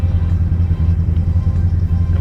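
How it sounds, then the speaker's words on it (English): A Fox Body Mustang Cobra with an aftermarket cam and supercharger rumbles loudly and steadily at close range, its deep lumpy low-end throb pulsing evenly throughout. "And between the cam and the blower, man, it just makes all the right sounds."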